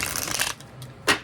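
Tarot cards riffle and slide against each other in a close, dry shuffle, a dense burst of flicking followed by a pause and one more quick snap of cards.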